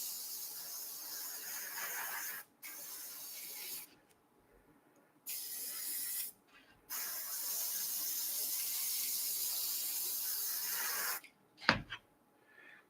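Spray paint hisses onto a cosplay prop blaster for its first coat in several steady bursts of varying length separated by short pauses, with a brief clatter near the end.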